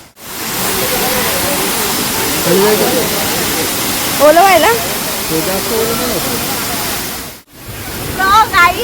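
Steady roaring rush of a waterfall in Kerala fills the whole stretch, loud and broadband, with a person talking over it in bursts and a brief dropout near the end.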